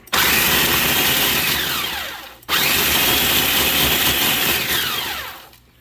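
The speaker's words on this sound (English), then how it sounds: "We're going to go ahead and blend these up." A blender grinds freeze-dried radishes at high speed, a loud whirring roar running for about two seconds, stopping briefly, then starting again and running steadily before cutting off.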